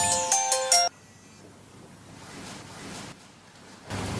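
A phone ringtone trills loudly in a short melodic burst, cut off abruptly as the call is answered, leaving quiet room tone.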